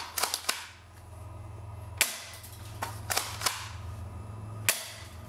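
A shotgun is fired point blank at a polycarbonate fog light, several sharp, loud blasts in quick succession, with the pump action racking between shots.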